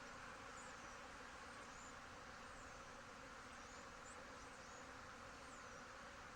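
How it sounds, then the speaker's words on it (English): Honey bees fly in large numbers around a hive box, a faint, continuous buzzing hum with occasional individual bees zipping past, no voices. "But look at the bees out there flying right now."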